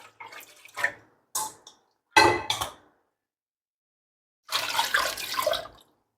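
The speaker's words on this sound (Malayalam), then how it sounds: "നമ്മൾ അളന്ന് വെച്ചിരിക്കുന്ന വെള്ളത്തിൽ നിന്ന് ഇതിലേക്ക് കുറച്ച് ഒഴിച്ചു കൊടുക്കുക." Water is poured from a measured amount into a pressure cooker of masala-coated mutton, heard as a few short splashing bursts and then a longer pour of about a second, close by with quiet gaps between.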